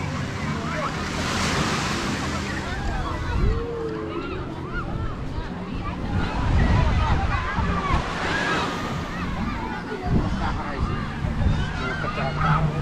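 Surf washing in steadily at Reviola beach in Batam, a continuous broad wash with swells rising and falling, overlaid by wind buffeting and scattered voices and honking-like calls in the background.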